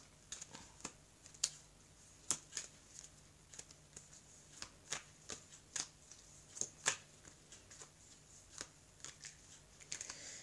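Tarot cards being handled and laid out on a surface during a reading: a series of crisp, close slaps and snaps at an uneven pace, quiet overall, with no one talking.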